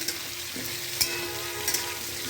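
Potatoes fry in a pan with a steady, close sizzle, and a few light clinks of stirring stand out against the continuous hiss.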